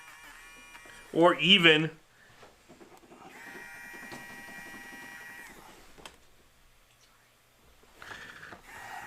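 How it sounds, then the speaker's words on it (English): An electric eraser buzzes on airbrush artwork in a steady, whining drone lasting a few seconds, with a shorter burst near the end. Someone speaks quietly before it starts. "now I can take an electric eraser here and I can start putting in some highlights"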